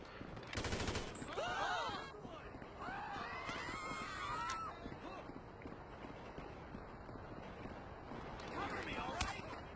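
Gunfire in a shooting video game, with bursts of rapid shots, whooshing and siren-like game effects, and a player's voice talking over the action.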